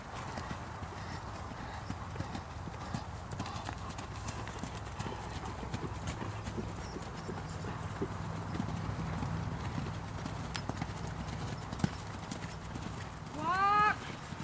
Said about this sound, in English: This horse is moving with a hollow back and little degree of collection.